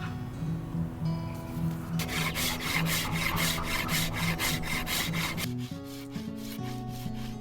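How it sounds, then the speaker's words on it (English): A Shinto rasp shaves belly wood from a Navajo wooden self bow in quick, rhythmic rasping strokes, close and steady, with no talking. "We'll continue removing that belly mass with the Shinto rasp until I can get this strung to full brace height."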